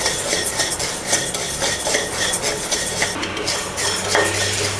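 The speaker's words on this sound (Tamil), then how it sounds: "மீடியம் ஃப்ளேம்லேயே வச்சு பொன்னிறமாக வறுத்து எடுத்துக்கோங்க." Red poha flakes dry-roasting in a pan over medium flame are stirred continuously, giving a busy, close scraping and rattling of a utensil against metal with dense clinks and rustles, no voice.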